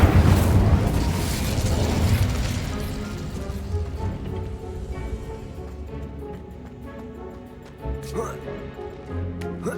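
An Incendio fire spell in Hogwarts Legacy bursts with a loud roaring blast of flame that slowly decays into crackling rumble, followed by a few fainter pops and mechanical clinks.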